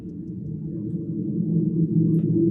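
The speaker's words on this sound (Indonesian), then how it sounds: "yang sebenarnya ini adalah suara dari sound subway atau kereta bawah tanah" A low, steady rumble swells slightly louder toward the end, like a subway train moving through a tunnel.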